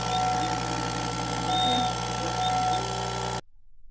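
A CNC mill cutting with a 1/8 inch end mill while machining a watch part gives a steady, close mechanical whir with a faint high whine, then stops abruptly near the end.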